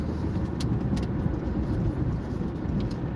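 A bus engine drones steadily while accelerating on a highway, with continuous low rumble and road roar, loud and constant, with no talking.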